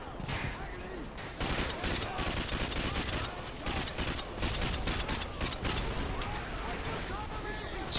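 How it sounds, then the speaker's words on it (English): Gunfire in Call of Duty Modern Warfare 2 crackles in dense, continuous automatic bursts, with shots close and loud throughout and occasional heavier blasts, as a battle sound bed under the game. "the people that are shooting at me with guns."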